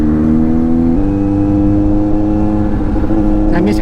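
A green motorcycle's engine runs and revs on a short Sunday ride, a loud, steady drone with a pitch shift partway through and a brief rise at the end.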